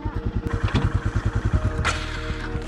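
Motorcycle engine being throttled, loud and close, with a fast rhythmic pulsing idle that rises and smooths out as the throttle opens, then settles back into a steady throb.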